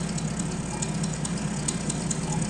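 The engine of the Spirit of St. Louis aircraft in Microsoft Flight Simulator idles on the ground with a steady, low droning hum and a faint regular flutter, unbroken throughout and with no voices.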